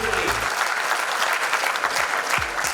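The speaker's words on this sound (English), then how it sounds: "absolutely give them a round of applause" Loud, dense applause from a studio audience at a television show in Karachi, a continuous wash of clapping that runs the full length. A few low voice fragments surface underneath.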